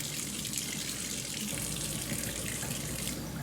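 Hot water runs steadily from a kitchen sink tap, a continuous even hiss and splash that is fairly quiet and stays constant throughout.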